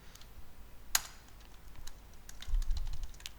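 PHP code being typed on a computer keyboard: scattered, fairly quiet key taps at an uneven pace, with one sharper click early on and a low rumble of movement near the end, no voices.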